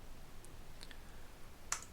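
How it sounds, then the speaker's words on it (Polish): A computer mouse clicks on a link, a couple of faint, quiet clicks over a low steady background hum, with one sharper click near the end. "Klikamy na link."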